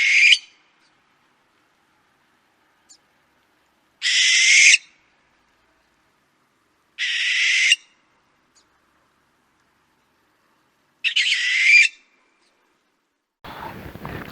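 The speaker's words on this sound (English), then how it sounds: "Unlike our other owls, barn owls do not hoot. Instead, they have a hissing like shriek." A barn owl gives four harsh, hissing shrieks. Each lasts under a second and they come at spaced intervals across otherwise silent stretches, followed by a brief low rustle at the end.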